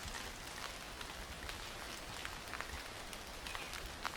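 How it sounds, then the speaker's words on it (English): Steady rain pattering on surfaces at a fall campsite beside a VW bus, a dense, even hiss with scattered louder drops, close and continuous with no talking. "It's raining."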